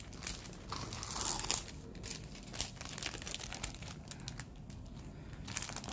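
A plastic sheet from a diamond painting kit is torn apart lengthwise, giving quiet crinkling and ripping noises close by, with a brief louder tearing burst near the start.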